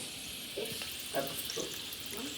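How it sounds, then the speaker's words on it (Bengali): Nimki snacks fry in plenty of hot oil, a faint continuous sizzle with a few soft bubbling bursts and small clinks, close but quiet. "এইবার তেলের মধ্যে দিয়ে দেবো ভাজার জন্য"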